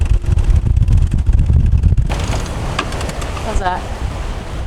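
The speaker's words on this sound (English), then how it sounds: "Well, the wind sure has picked up" Strong wind roars and buffets around a sailboat at sea with one reef in the mainsail, loud and constant, with water rushing and a short spoken question partly masked by it.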